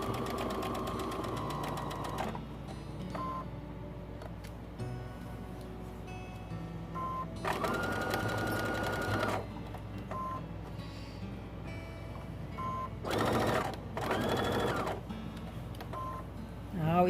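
A sewing machine stitches fabric for a pillowcase dress in several separate bursts of fast, steady whirring, with quiet handling noises between runs.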